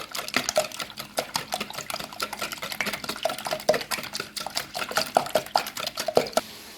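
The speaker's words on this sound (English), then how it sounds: "So I'm whisking everything together, guys." Rapid, steady whisking of eggs with fruit cake ingredients in a bowl, a close, rhythmic ticking of the whisk against the bowl that continues throughout with no talking.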